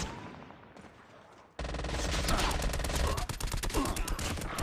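Video game gunfire erupts abruptly after quieter ambience, turning into dense, loud bursts of rapid automatic shots that continue with short gaps.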